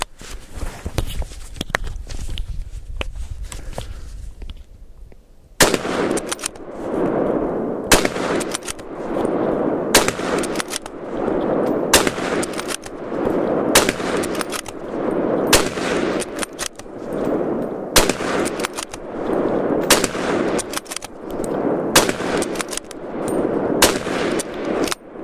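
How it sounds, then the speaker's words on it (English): Suppressed gunshots from a Tikka CTR rifle fitted with a Backgrounder suppressor, fired at a 50-meter target outdoors: about a dozen sharp, evenly spaced cracks over a steady broad background rumble, after a quieter opening. "Okay, we're shooting at 50 meters."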